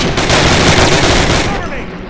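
Covering gunfire in Call of Duty 1 rattles nonstop in loud, dense automatic bursts from several weapons throughout, close and overwhelming.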